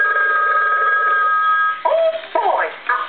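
An animated Mickey Mouse toy telephone rings with a steady electronic tone, then breaks into short chirpy tonal sweeps like a cartoon voice chattering, loud and close.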